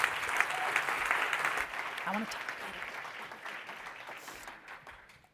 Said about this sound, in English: big round of applause for Tara